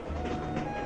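Train rolling past in a Telugu film's climactic station scene, a steady low rumble with faint rail clatter filling a brief moment, no voices over it.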